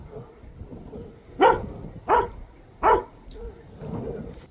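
Three loud, spaced barks from a nearby dog directed at vultures in a garden, with quiet background between and a soft murmur after the last one.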